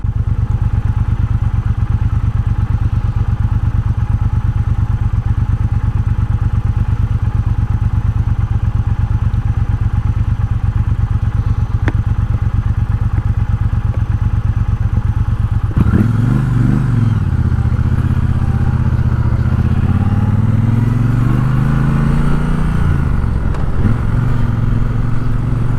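A 2020 Triumph Bobber Black motorcycle rides along a road, its engine droning steadily and close up for a long stretch, then shifting pitch as it revs and accelerates near the end, with no talk over it.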